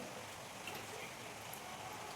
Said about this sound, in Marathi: आणि बाहेर पडतं पाऊस